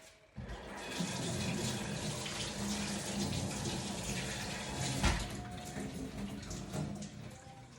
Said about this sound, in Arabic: هغسل ايدي وارجع لكم